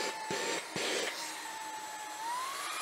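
A Xiaomi mini handheld vacuum cleaner running on level 1 gives off a steady, fairly quiet motor whine and airflow hiss, with a faint rising tone and a couple of brief knocks early on.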